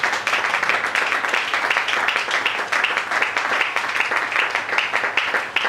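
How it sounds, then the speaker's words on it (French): A church congregation claps and cheers loudly for Jesus in a steady, dense wave of applause that carries on without pause, with no talking over it. "Acclamez plus fort pour Jésus"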